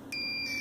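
A voltage detector screwdriver gives a single close, sustained electronic beep that starts abruptly and holds steady for over half a second.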